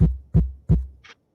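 A microphone tapped three times in a steady rhythm, each a close, dull thump with a short low ring, followed by a faint brief rustle.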